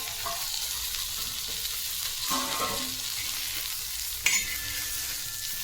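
Stuffed okra sautés in a pan with a continuous close sizzle, punctuated by a few spatula stirs and scrapes and one sharp metallic clink near the end.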